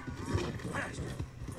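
A horse in Red Dead Redemption 2, with soft hoof clip-clops and faint snorting near a swamp, quiet and brief under low game ambience.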